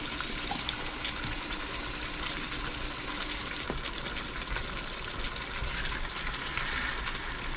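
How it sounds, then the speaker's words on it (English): Hot water runs steadily from a kitchen tap in a cooking setting, a continuous hissing rush of moderate loudness with faint clinks, no talking. "Hot water."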